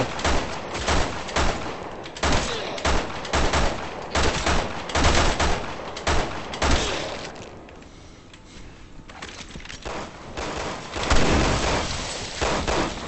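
Rapid gunfire in Resident Evil 6 on Xbox 360, repeated sharp bursts and volleys in quick succession, loud and close, easing into a quieter lull before another heavy burst near the end.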